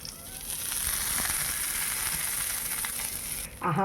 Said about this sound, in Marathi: ही जी केलेली फोडणी होती, तडका जो केलेला होता तो ओतूया